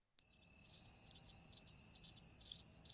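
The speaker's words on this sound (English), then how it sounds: "I can put crickets in." A cricket sound effect, a high, clear chirping trill repeating in a steady pulsing rhythm, loud and alone against silence.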